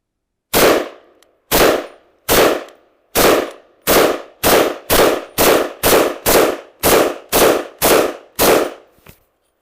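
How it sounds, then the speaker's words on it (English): A Czechoslovak Vz.58 rifle fired on a test: about thirteen sharp, loud shots in steady succession, speeding up slightly partway through, each with a short echoing tail. "the weapon is ready to fire"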